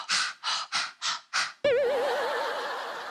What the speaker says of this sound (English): Breathing out to them?